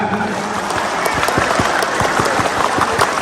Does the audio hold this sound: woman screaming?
no